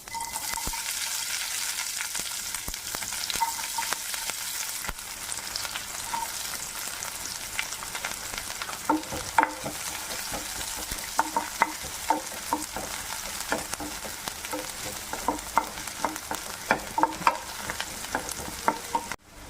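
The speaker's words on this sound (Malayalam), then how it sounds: "കടുക് പൊട്ടി വരുമ്പോൾ അതിലേക്ക് വെളുത്തുള്ളി ഇടും" Mustard seeds and garlic crackle and sputter in hot oil, with frequent sharp pops over a continuous sizzle, close by and with no voices.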